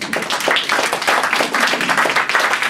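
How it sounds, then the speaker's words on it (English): Audience applause after a presentation, a dense, steady wash of many hands clapping close by that carries evenly through the whole stretch. "Give them a round of applause."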